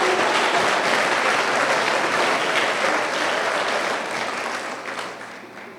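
A church congregation applauding during a sermon, dense sustained clapping from many hands filling the room, steady then gradually fading toward the end.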